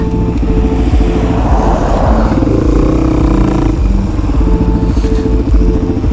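A motorcycle engine runs loudly and close, throbbing and rising in pitch near the middle, then settling into an even drone for the rest of the stretch.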